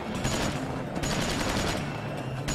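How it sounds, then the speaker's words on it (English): Dense gunfire from the video game Tales from the Borderlands rattles nonstop, rapid overlapping shots forming a loud continuous barrage without pauses. "No, don't shoot his fucking shield."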